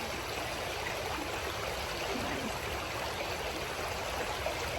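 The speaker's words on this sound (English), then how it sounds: "Water's so pretty" A stream flows outdoors in autumn, giving a steady, full rushing and burbling of water that stays even and close throughout, with no voices.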